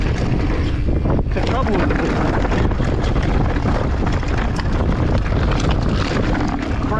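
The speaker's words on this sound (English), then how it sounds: "the wind caught my front wheel there." Loud, constant wind buffets the microphone of a mountain biker riding a smooth trail, a heavy roaring rush throughout, with a rider speaking briefly over it.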